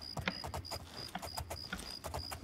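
Horse hooves gallop in The Elder Scrolls IV: Oblivion, a quick, continuous clip-clop of close hoofbeats with a faint ringing tone repeating in the background.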